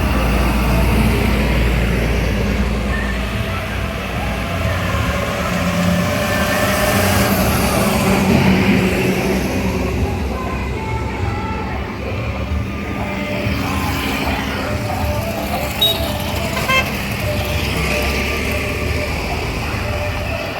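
TVS Excel electric bike ridden on a main road, with a steady low rumble of passing road traffic and engine noise continuing throughout at a fairly even level.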